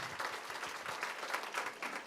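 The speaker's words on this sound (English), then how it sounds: "give Rod and Jay both a round of applause" Audience applause for two speakers at a live AI in education and workforce development conversation in Miami, a steady wash of many hands clapping throughout, fairly distant and even in level.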